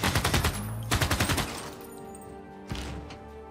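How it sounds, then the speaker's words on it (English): In a Civilization VI match, machine guns let off rapid bursts of rattling fire: two quick volleys close together, then a single later crack, with the game's ambient music underneath. "Put the machine gun here."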